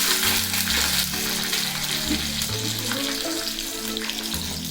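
Steady, loud sizzling of spices, dal and curry leaves frying in hot oil, a continuous crackling hiss with no talking.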